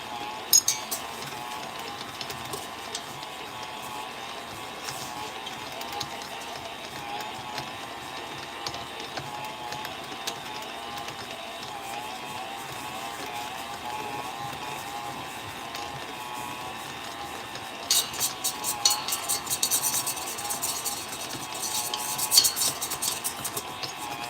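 A stand mixer kneading bun dough as butter is worked in, a steady low mechanical whir and rubbing hum that continues throughout and grows slightly louder and busier near the end.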